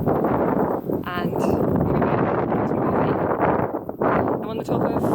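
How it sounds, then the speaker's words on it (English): Breezy wind buffets the microphone atop a big hill in Wellington, a loud, continuous gusty roar with a few brief dips, while someone talks. "It's very breezy."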